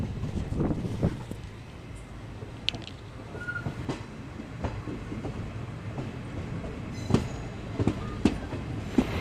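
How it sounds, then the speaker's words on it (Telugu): A 57405 Kadiri–Devarapalli passenger train running out of Tirupati rumbles steadily, with rhythmic clickety-clack wheel beats and occasional brief squeals over a continuous low rolling drone, heard from on board. "ఈ ప్యాసింజర్ వచ్చి తిరుపతి నుండి బయలుదేరింది"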